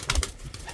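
A single short, low coo from a large racing pigeon cock bird, close by and brief, with no talk over it.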